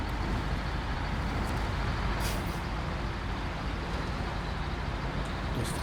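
Heavy truck engine in the SnowRunner off-road game, a steady loud low rumble throughout with a brief hiss partway, no talking.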